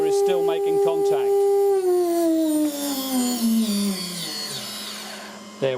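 A CNC router spindle spins at 24,000 RPM with a loud, close whine that holds steady and then slowly falls in pitch over several seconds. Brief clicks and noise come and go around it.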